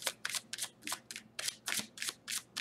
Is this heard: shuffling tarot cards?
yes